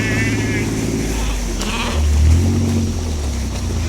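Flock of about 100 ewes with their big lambs bleating on a home sheep farm, several close, loud calls overlapping a steady low rumble, with a person talking throughout.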